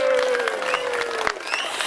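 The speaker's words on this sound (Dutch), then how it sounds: "Mag nog één keer een hartelijk applaus voor het toneelgezelschap op de Duinen" Audience applause for a theatre group at an outdoor Scheveningen day in Duindorp, a dense steady patter of many hands with a sustained tone and a voice over it.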